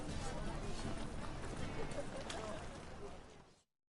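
Geralt's horse Roach trotting in The Witcher 3: Hearts of Stone, a steady run of hoof clip-clops sounding fairly close over dense game ambience, carrying on for a few seconds before breaking off.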